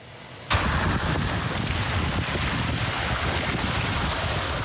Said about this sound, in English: took to Wascana Creek on Sunday and experienced some rare whitewater conditions